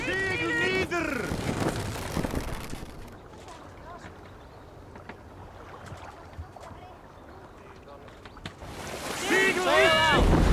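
A sailing ship moves across the open sea in Assassin's Creed Valhalla, with a soft wash of wind and water running throughout, while voices shout at the start and the end.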